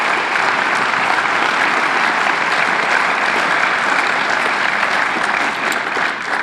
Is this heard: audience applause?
yes